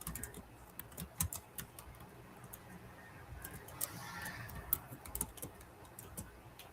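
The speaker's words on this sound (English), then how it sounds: "I can't seem to type on my sister's computer." Quiet, irregular clicking of keys being typed on a computer keyboard indoors, in short bursts with soft pauses between them.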